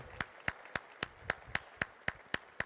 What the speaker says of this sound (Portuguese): Palmas para ele, palmas para ele.